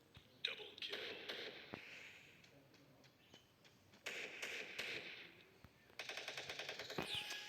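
Rapid gunfire in the Free Fire mobile battle game, scattered shots and bursts building to a dense rattling volley at the end, with quiet talk underneath.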